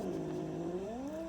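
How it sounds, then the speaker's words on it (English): A house cat growling while dogs harass it: a low, drawn-out moaning growl that rises slightly in pitch toward the end, heard indoors at moderate volume. "that's my cat growling."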